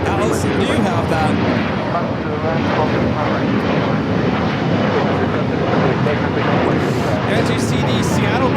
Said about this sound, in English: As you see the Seattle Kraken livery on the new Max 9 taxiing for takeoff.